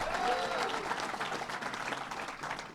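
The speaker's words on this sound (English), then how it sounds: "Give him a big round of applause." A press-conference audience in New York breaks into steady, dense applause, many hands clapping together at moderate loudness for the whole stretch with no talk over it.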